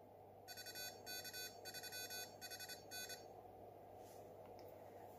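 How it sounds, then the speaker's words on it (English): A shrill piezo buzzer on a transmitter controller beeps out a rapid series of Morse code CW ident tones in short clustered groups, then falls silent against a low background hum. "the controller will sound a CW ident"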